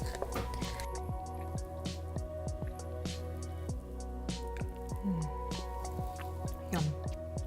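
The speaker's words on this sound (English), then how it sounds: "we're going to add our rose water" Raw chocolate is stirred with rose water in a bowl, giving close, wet squishing and soft repeated scraping strokes, with a steady hum in the background.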